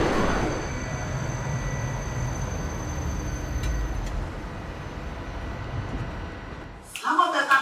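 A Jakarta MRT train runs with a steady low rumble and hiss. High electrical whines sit above the rumble until it drops away near the end, where a brief announcement-like voice begins.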